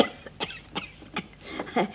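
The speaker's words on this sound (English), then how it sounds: "You still got that cough, you know." A woman coughing in a 1970s women's prison drama, a string of sharp, rasping coughs spaced irregularly, close and moderately loud with no speech between them.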